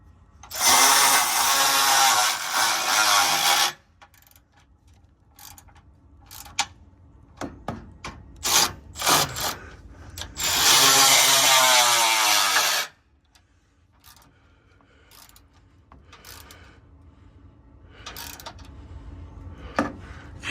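Power tool driving bolts on a Dodge Challenger Hellcat rebuilt from a shot-up police auction car, two loud sustained bursts of several seconds each, with scattered metallic clanks and handling knocks in between.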